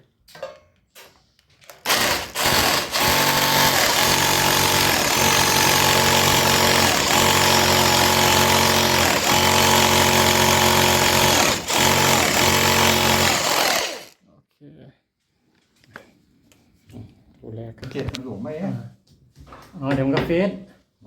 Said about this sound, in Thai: แล้วก็เจาะรูนะ